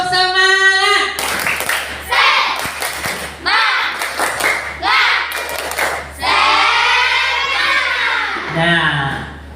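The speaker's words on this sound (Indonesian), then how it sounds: "Tepuk tangan untuk kelompok Malaysia" Schoolchildren in a classroom clap for a group of classmates, a loud burst of clapping and thumping mixed with children's voices and shouting.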